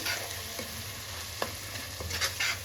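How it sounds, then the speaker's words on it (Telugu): A spoon stirs coriander powder into egg biryani masala in a pot over a low, steady sizzle, with a few soft scrapes and clicks spread through the stirring. "ఒక టూ స్పూన్స్ ధనియాల పొడి ఇది ఒకసారి బాగా మిక్స్ చేసుకొని"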